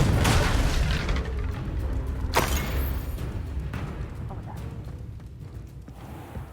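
Confringo blasting-curse explosion in the Hogwarts Legacy video game, a loud rumbling boom with a sharp crack partway through, then a long decaying roar.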